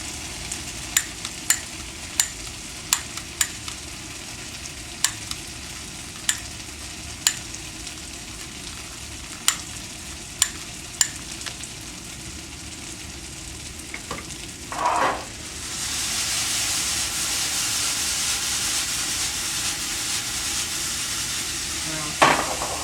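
Garlic starts sizzling in a hot pan at about fifteen seconds, a steady close frying hiss that continues to the end, after a run of sharp clicks and taps of stirring and utensils against the pan.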